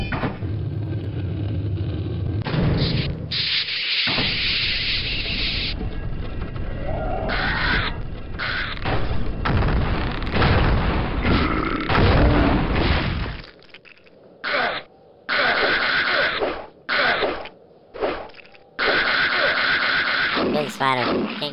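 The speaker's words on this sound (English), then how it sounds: "this is 8-bit sound." Retro chiptune-style game effects, buzzy bursts and harsh noisy blips that start and stop in quick succession, loud and close.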